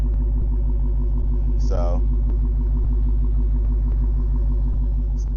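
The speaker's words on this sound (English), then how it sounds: "you're hearing the exhaust stock in track mode on this mic that's on me" A Dodge Hellcat with its stock exhaust in track mode idles in a loud, deep, steady rumble heard up close, with a brief word spoken over it.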